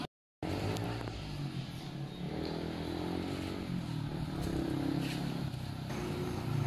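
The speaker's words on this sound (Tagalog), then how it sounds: "Pero naririnig ko pa rin ang ugong ng tambutso." A motorcycle exhaust drones steadily at a distance, holding an even low hum with slight swells as it rides on, with no voices.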